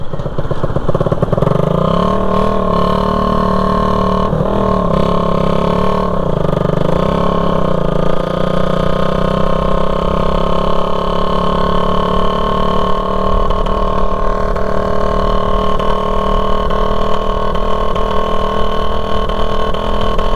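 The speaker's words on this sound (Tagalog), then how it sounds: "Nagtataka po yung mga tao kung bakit ang ingay-ingay ng tambutso." A Raider 150 motorcycle engine runs loud and steady nearby, its loose, faulty exhaust rough and rattly, with no voices over it.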